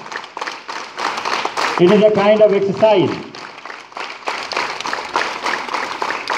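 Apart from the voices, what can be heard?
students clapping hands as exercise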